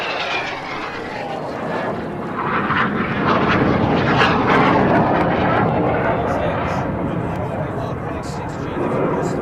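Synchro display team aircraft flying the carousel manoeuvre at an airshow, a loud, sustained engine roar rising and falling as the planes pass close overhead, with crowd or commentary voices faintly mixed beneath.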